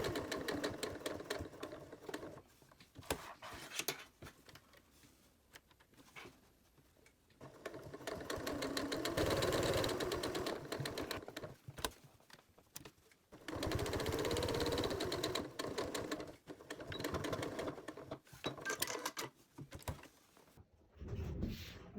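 A sewing machine stitches a napkin seam in bursts of rapid mechanical whirring and clatter, separated by short pauses where the needle stops and the fabric is pivoted, close and fairly quiet, with no talking.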